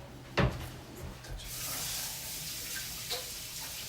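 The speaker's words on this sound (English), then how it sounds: "Rinse your hands, get in there." Water runs steadily from a tap over hands being rinsed at a kitchen sink during venison and beef prep, opening with a sharp knock and then a continuous close splashing wash with no talking.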